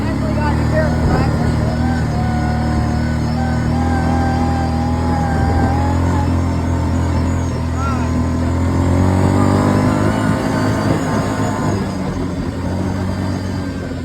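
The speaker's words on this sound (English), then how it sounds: "I wasn't even a quarter in the throttle when we hit 35 like it's nothing" A small vehicle engine held at high revs while speeding around a lap, a sustained droning whine with slowly rising and falling pitch, close and loud throughout with no pause.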